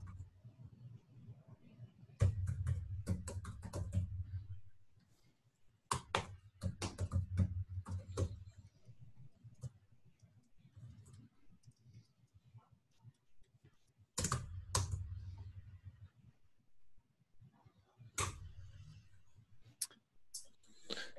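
Code is typed on a computer keyboard in bursts of rapid key clicks separated by pauses, fairly close and quiet, with no talking.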